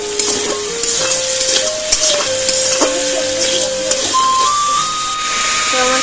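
Banana slices fry in a pan with a soft steady sizzle, while sustained tonal whistling and faint kitchen clatter sit on top.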